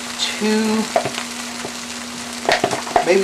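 Minced garlic sizzles in a frying pan for an Italian meatball tortellini soup, a steady close crackle with occasional clanks and scrapes of a utensil against the pan.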